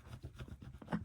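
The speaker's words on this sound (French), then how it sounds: "je dois gratter la pastille euro" A coin or nail rubbing off the coating of a euro scratch-off sticker, heard as a faint, short run of dry scraping strokes close by, with no talking.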